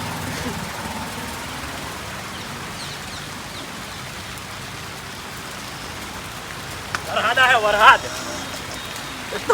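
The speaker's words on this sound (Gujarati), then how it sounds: "વરસાદ આવ્યો છે ઉપાધિ કરી છે" Steady rain falls outdoors, a dense even patter on surfaces throughout, with a brief voice-like sound rising near the end.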